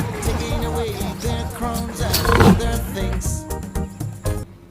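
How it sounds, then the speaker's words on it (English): A lion roars in a children's alphabet song, a rumbling, swelling roar mixed into a steady musical backing with a rhythmic beat. "L for lion"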